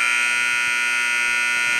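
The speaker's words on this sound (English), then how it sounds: "Deep 3 attempt there as the buzzer hits, and that's going to end the third quarter." A basketball arena buzzer sounds at the end of a quarter in a girls' high school game, a loud, sustained electronic tone lasting the whole moment with faint court noise beneath.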